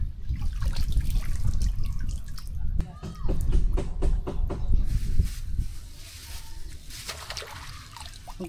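Small fish is washed by hand under running water. Water trickles and splashes steadily in the foreground, then eases to a lighter dribble for the last few seconds, with some faint background sound.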